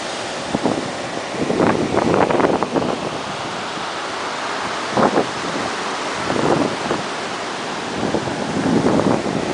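Broad, rushing surf noise swells and recedes several times over a steady wash at the beach in Bombinhas, Santa Catarina, Brazil, with wind buffeting the microphone; no voices.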